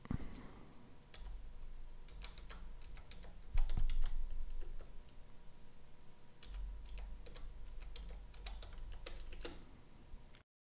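Keys tapped on a QWERTY computer keyboard in irregular bursts of clicks, close and fairly quiet, with a soft low hum underneath.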